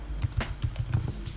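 Computer keyboard keys tapped in a quick, uneven run of close, light clicks, with no voices.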